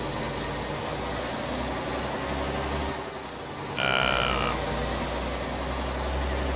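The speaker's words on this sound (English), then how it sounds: "Okay, definitely too much truck sound." Mack R truck engine in American Truck Simulator droning loudly and continuously, with a brief dip in level midway and a short higher-pitched tonal sound layered on top for a moment.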